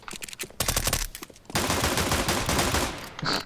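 Rapid automatic gunfire in a Counter-Strike match on the Vertigo map, bursts of close shots followed by a longer sustained spray.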